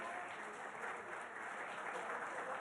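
Audience applause at a political debate event in India, a steady wash of clapping from a large crowd, heard at some distance and fairly faint throughout.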